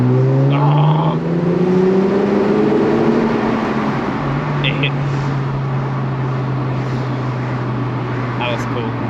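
A Lexus IS250 with its exhaust back box deleted drives steadily, a loud droning exhaust note that rises as it accelerates and then holds a constant hum, with a few faint clicks over the continuous engine sound.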